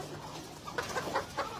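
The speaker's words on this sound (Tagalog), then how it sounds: "Ito yung aking mga manok" Chickens on a farm cluck softly in short, irregular calls, fairly close and with no one talking.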